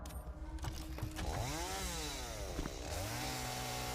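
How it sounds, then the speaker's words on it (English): A chainsaw cuts down trees in the video game Satisfactory: a buzzing motor revs up and down in rising and falling whines, loud and close, with no voices. "Do I have a chainsaw on me?"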